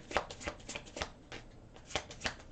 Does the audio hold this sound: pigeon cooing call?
no